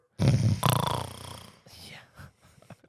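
A person's voice imitates a deep, guttural snore in two loud, rasping close-up pulls, followed by some quieter talking.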